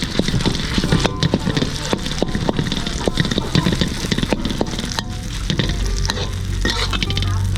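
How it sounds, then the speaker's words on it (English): Fish frying in oil for a Northern Thai nam prik ong dipping sauce, with a steady close crackle and sizzle, frequent stirring scrapes and utensil taps running throughout. "Fry the fish in the oil."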